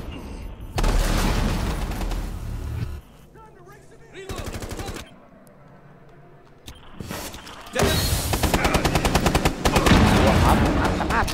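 Grenade explosion and gunfire in Rainbow Six Siege, loud bursts of rapid shots separated by quieter gaps, with heavy firing returning toward the end and voices talking in between.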